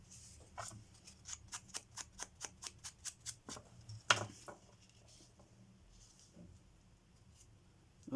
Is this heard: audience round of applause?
no